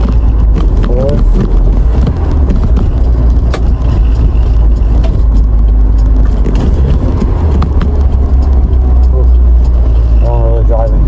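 A mini truck's engine drones loud and steady while driving, the rumble continuous with faint rattles, as someone speaks over it.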